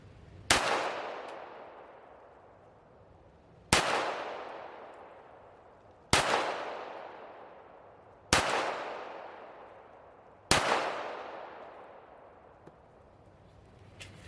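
Five loud .45 pistol shots with hand loaded ammunition, starting at the minimum powder charge, each a sharp crack with a long ringing outdoor decay, spaced a few seconds apart.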